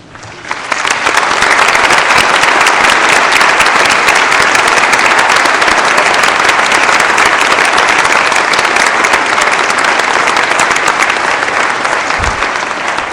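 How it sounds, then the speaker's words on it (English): Loud, sustained applause from a large commencement audience honoring graduating honors students, a dense wall of clapping that starts abruptly and holds steady for over ten seconds without talk. "ladies and gentlemen, join me in applauding these outstanding students"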